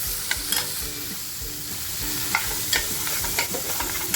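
Tomato going into a pan of masala being sautéed for a spicy black pomfret masala fry, with steady close sizzling and frying broken by several sharp clinks and scrapes of stirring.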